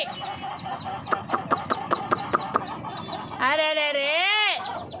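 A rapid run of about eight sharp hen clucks rises over background fowl chatter, followed by a man's loud, drawn-out shout.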